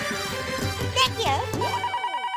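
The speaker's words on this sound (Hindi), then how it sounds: "एक मिनट, फोन आया, फोन आया, फोन आया।" A telephone rings with a repeated electronic bell-like trill in a Hindi comedy scene, two bright bursts of ringing over a background music bed before it cuts off.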